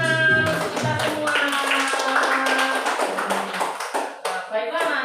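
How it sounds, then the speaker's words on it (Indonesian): Children in a classroom clap their hands in rhythmic bursts while a music track with a melody plays loudly over them, and the clapping thins out toward the end. "tepuk tangan kita semua."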